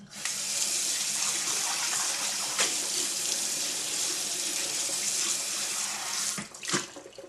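Water runs steadily from a kitchen tap into a sink while a sponge scrubs under it, a continuous close gushing hiss with a few louder splashes and clatters near the end.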